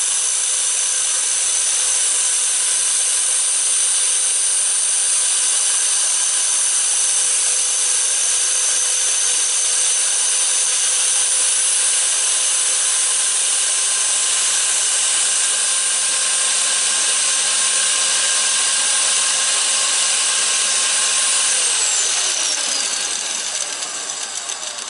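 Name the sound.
lathe disc grinding high-speed steel tool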